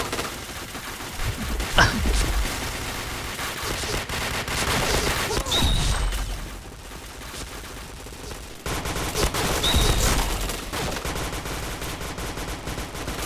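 Rapid automatic gunfire rattles in a mobile shooter video game, with dense bursts of shots and short pauses throughout, loud and close, mixed with game effects.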